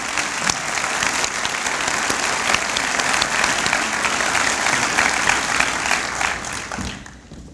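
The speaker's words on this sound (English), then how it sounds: "Please now acknowledge these individuals with your applause." Steady applause from an audience at a 2011 School of Dental Medicine commencement ceremony, dense and sustained throughout before tapering off at the very end.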